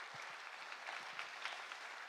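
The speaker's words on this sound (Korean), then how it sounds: "자, 다시 한번 박수 한번 할게요." A church congregation claps together at a revival service, a fairly faint, busy patter of many hands with no one talking over it.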